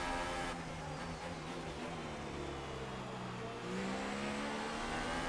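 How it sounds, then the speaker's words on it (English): An Alfa Romeo Formula 1 car powered by a Ferrari engine races in the F1 2018 video game, a loud, steady high-pitched engine whine with shifting revs, heard alone without talk. "That Alfa Romeo using some Ferrari engine."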